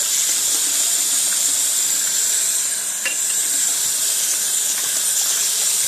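Steady broadband rush of running water, loud and continuous, like a tap flowing into a sink, with faint clinks partway through.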